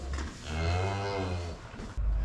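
A cow moos in a cold barn full of animals, one long, loud, drawn-out call close by with a low, steady tone.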